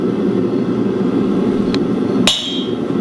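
A hammer gives a punch a light tap on a steel billet during hand forging, one sharp ringing strike near the end over a steady background hum.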